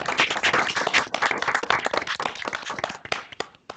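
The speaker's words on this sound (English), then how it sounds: "come off mute and clap for a few seconds to show our appreciation in the old-fashioned way" Audience members at an online UN statistics side event clap together for a few seconds, a burst of scattered hand claps that thins out toward the end.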